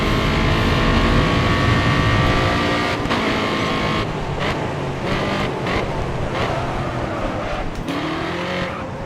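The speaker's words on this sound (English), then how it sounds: "Oh, listen to that engine rev. My God, it's sexy. The strain on it." Loud, strained race car engine revving at high pitch in the video game GRID Autosport, with shifting tones and brief tire squeals, continuous and close, no talking.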